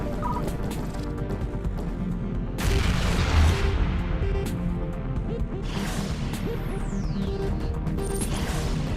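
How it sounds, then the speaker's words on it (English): Pink explosions in We Are Doomed, a PS4 arcade shooter: a constant busy wash of crackling blasts and impacts over a low rumble, swelling louder midway, with electronic game tones and no talking. "Man, these pink explosions?"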